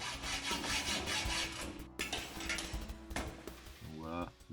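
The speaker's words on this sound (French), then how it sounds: "je suis en train de couper mes 3 points flash sur la scie à métaux" A hacksaw strokes back and forth through stainless steel tack welds joining DN200 pipe pieces, a steady rasping rhythm close up, with a voice speaking at the end.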